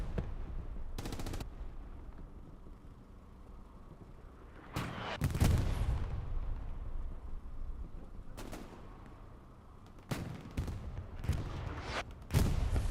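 Artillery shells and gunfire sound across a Carentan battlefield in Hell Let Loose, a World War II shooter: sharp separate bursts and blasts at irregular intervals over a low rumbling backdrop, some loud and near, others fainter.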